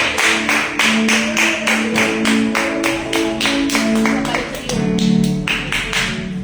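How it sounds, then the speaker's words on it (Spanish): A church congregation claps in steady, even beats over music, a loud, continuous run of sharp hand claps throughout. "Dale un aplauso, por favor, al Señor."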